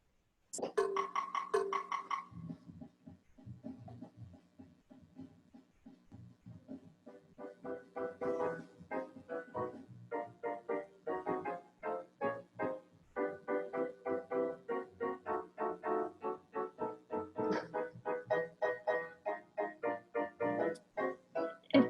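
Chord backing track plays from the iReal Pro app, transposed up a half step: a brief intro chord, then rhythmic repeated chords with a steady pulse, fairly loud and continuous, no talking.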